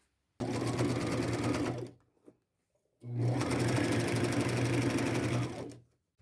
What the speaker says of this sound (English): Now I'll take it to my machine, go around all the edges with a zigzag stitch, and I'm still sticking with the white thread.